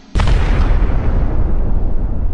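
An explosion sound effect hits with a sudden loud boom, then a heavy rumbling roar slowly fades over the next two seconds.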